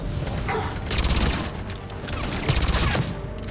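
Rocket fire in the sci-fi shooter Mass Effect 3 comes as two loud, crackling bursts of rapid explosive volleys, each lasting about half a second with a brief lull between, heard with no talking.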